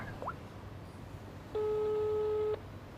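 A telephone busy tone on a failed call sounds near the middle of the clip as one steady electronic beep lasting about a second, after a brief faint chirp, over a quiet background.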